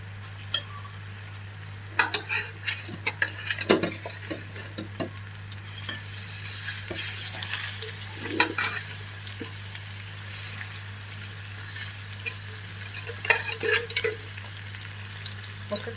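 Marinated fish pieces coated in salt, chili and turmeric are dropped into hot oil in a kadai for fish curry, sizzling and crackling steadily over sixteen seconds with scattered clinks and scrapes of a utensil against the pan.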